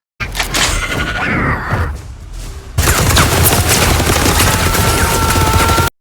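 Minigun fire from an animated TV show, a dense, continuous roar of rapid gunfire that cuts out briefly and then resumes even louder, with no talk over it.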